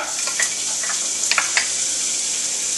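Onion sizzling in a generous amount of olive oil in a pan, a steady close hiss with a few faint pops and ticks.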